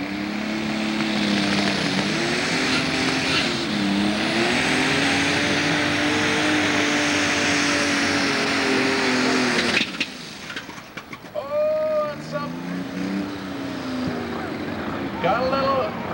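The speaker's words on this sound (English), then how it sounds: "Tractor's still running, I believe." An alcohol-burning super stock pulling tractor engine keeps running loudly and steadily with a harmonic drone, then sputters and drops in level near the end, with a commentator talking over it at a tractor pull.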